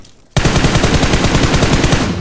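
Loud, sustained automatic gunfire from a rifle in the mobile shooter game PUBG Mobile, a rapid unbroken burst of shots that starts abruptly and continues to the end.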